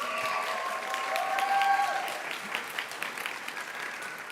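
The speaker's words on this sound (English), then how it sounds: "Graduates, please give your friends and family a round of applause." Nursing graduates at a community college pinning ceremony applaud their friends and family, a sustained wash of crowd clapping at moderate distance, with faint voices mixed in.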